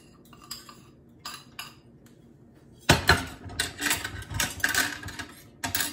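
Dishes and silverware clink and clatter in a plastic dish pan in a home kitchen, with a few quiet clinks at first, then a busy, louder stretch of rattling and knocking.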